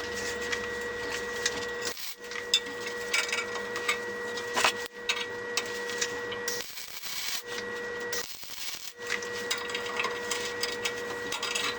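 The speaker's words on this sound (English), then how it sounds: "I'm just going to go all the way around it and weld this all the way out." MIG welder buzzing and crackling in steady bursts while welding all the way around a metal oil filter wrench clamped to a bench, the sizzle broken by short pauses between passes.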